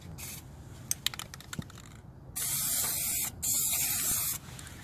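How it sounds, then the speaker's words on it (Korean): Bursts of spray paint hiss through a tire stencil onto a tire, two long steady sprays after some light clicking and handling noises, fairly close. "카메라에 스프레이 입자 날리는 거 다 보여"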